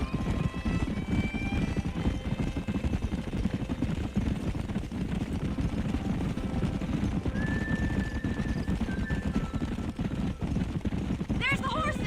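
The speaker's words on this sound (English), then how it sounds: "There's the horses!" Horses whinny and their hooves clop steadily in the Red Dead Redemption 2 video game, a continuous rhythmic trotting with a few high neighs on top and game voices talking over it.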